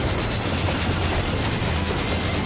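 The Ghost Train in a Final Fantasy XIV Omega raid, a dense, loud rattling rumble of rolling rail wagons with rhythmic clatter, continuous throughout.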